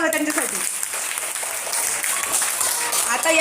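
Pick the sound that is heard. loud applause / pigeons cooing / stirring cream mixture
loud applause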